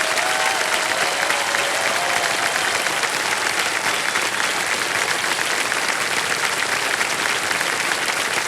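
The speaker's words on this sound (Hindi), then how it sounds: "तालियां बज जाए" A studio audience on the quiz show Kaun Banega Crorepati bursts into sustained, dense applause, loud steady clapping from many hands that fills the whole stretch without pause.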